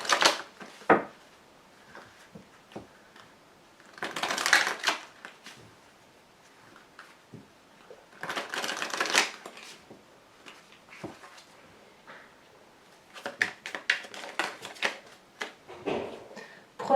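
Tarot cards are shuffled and laid down on a table in repeated bursts of papery riffling and soft slaps, separated by quiet pauses, close and fairly loud.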